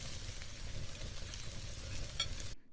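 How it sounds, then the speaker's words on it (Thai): Pieces of pork sizzle and crackle on a hot Thai-style grill pan, a close, steady frying hiss with small pops, cutting off abruptly at the end. "เสียงหมูถูกย่างบนเตาร้อนๆ"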